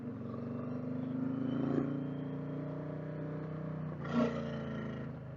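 Indian Challenger motorcycle fitted with a 112 big bore kit rumbles steadily at close range, a deep, even engine note that swells briefly twice, like light throttle blips.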